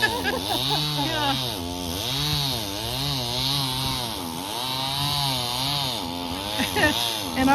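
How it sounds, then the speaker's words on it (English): A small chainsaw cutting a fallen tree revs up and down in long rising and falling waves, loud and close, running steadily throughout. "And our little tiny chainsaw."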